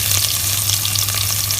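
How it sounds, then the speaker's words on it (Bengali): Chopped onion hitting a pan of frying beef tripe for vhuri bhuna, a loud continuous sizzle with steady crackling and a constant low hum from the stove, close up and without voices. "এখন আমি এর মধ্যে কেটে রাখা অনিয়ন দিয়ে দিব।"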